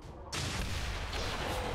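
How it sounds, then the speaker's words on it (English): A sudden loud explosion in the video game XCOM 2, modded, bursting in after a quiet moment and sustaining a dense, roaring rumble for over a second. "A loud explosion."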